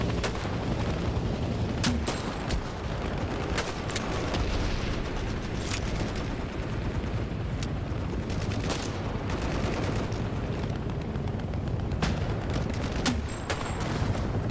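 Steady, dense gunfire and booming blasts from a Vietnam war video game, with sharp individual shots cracking over a continuous roar of combat and almost no talk.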